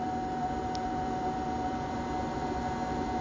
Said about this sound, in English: the Corsair GS 800 power supply fan